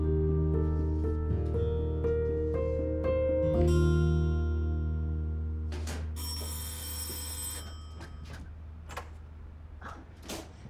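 A telephone rings indoors with repeated bright bell tones over a steady low hum. A clatter of sharper knocks follows partway through, and nobody speaks.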